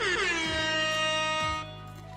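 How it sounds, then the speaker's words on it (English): A loud air horn blast plays as a Twitch stream sound alert, a harsh sustained honk with a slight falling pitch at its start and a brief second pulse before it cuts off. "We got air horns."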